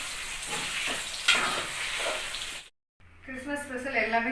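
Chicken 65 sizzles and hisses in hot oil, a steady frying crackle that is soft and close. A voice talks briefly over it. Then the sound cuts out, and a short burst of music follows.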